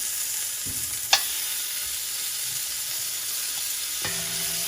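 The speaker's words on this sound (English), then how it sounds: "now it's time to sear our oxtail. So we're gonna sear it off. We're just gonna brown it, get some color on it." Seasoned oxtail searing in a pan for a Jamaican-style dish, with a constant sizzle, a sharp utensil clink early on and a stirring scrape near the end.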